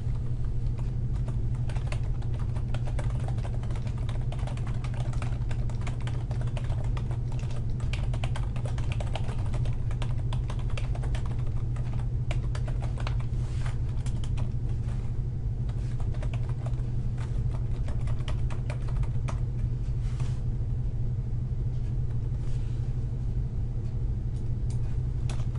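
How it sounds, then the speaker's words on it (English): Steady computer keyboard typing runs throughout, light rapid key clicks over a constant low hum, probably a computer fan or room noise, with no talking. "Please take a moment and type in the information provided."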